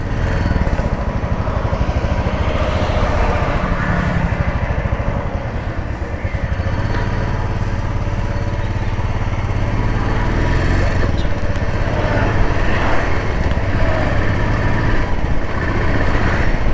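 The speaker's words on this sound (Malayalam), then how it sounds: "UC എഞ്ചിൻ്റെ സാധാരണഗതിയിലുള്ള സൗണ്ട് ടാപ്പറ്റ് നോയ്സ് ഒന്നുമില്ലാത്തൊരു വണ്ടിയാണ്." Royal Enfield Classic motorcycle with a UCE engine running steadily, a continuous close, loud mechanical thrum with no tappet noise, alone throughout.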